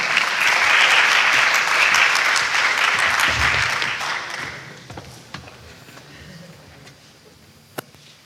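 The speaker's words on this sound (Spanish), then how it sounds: "Le brindamos un fuerte aplauso" Loud applause from an audience in a university auditorium during an academic congress opening, dense and sustained for about four seconds before thinning into scattered claps and quiet room noise.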